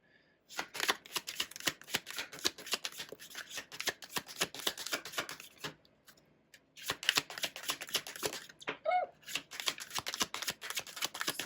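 Tarot cards shuffled close up, a long stretch of rapid riffling and slapping, a brief pause midway, then another dense run of shuffling at a quiet level with no talking.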